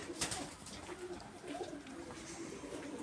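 Soft pigeon cooing runs through the background amid faint ambient noise and a few brief chirps, fairly quiet and steady.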